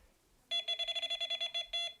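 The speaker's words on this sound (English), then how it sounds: "you can see I'm getting less beeps" A Delkim fishing bite alarm emits a rapid run of sharp electronic beeps, about a dozen close together with a brief gap before the final longer tone, loud and near with no talk.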